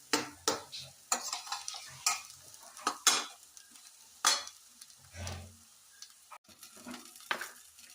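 Onions sautéing in a pan for a tomato and chili chutney, with repeated sharp scrapes and clinks of a spoon stirring against the pan over a soft sizzle, close and moderately loud.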